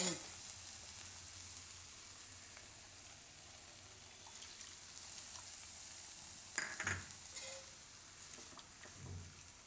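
Raw papaya halwa with cream stirred in a pan, a faint low sizzle with soft scraping strokes of the spoon, a few louder scrapes near the end.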